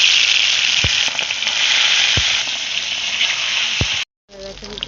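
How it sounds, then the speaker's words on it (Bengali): Turmeric-coated fish frying in oil in a kadai, a loud steady sizzle that runs continuously for about four seconds before cutting off abruptly, with a few soft knocks underneath. "তো মাছগুলো ভেজে নেব আমি।"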